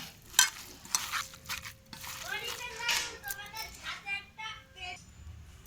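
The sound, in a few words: mixing food with gram flour by hand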